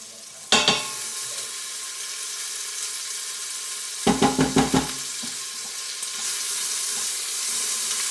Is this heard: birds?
no